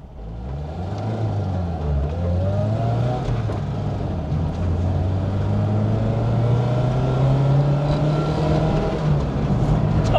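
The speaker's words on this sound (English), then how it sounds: "But feel how freely that revs." Ford Escort van engine revving freely on the move in fourth gear, a loud steady drone that climbs smoothly in pitch over the whole stretch with road and cabin noise beneath.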